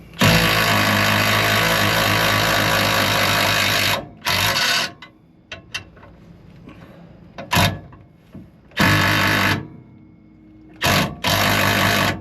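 A power tool spinning a nut on the back of a 2012 Dodge Ram 3500 drive shaft, running in loud sustained whirring bursts of several seconds, separated by quieter gaps with faint clanks.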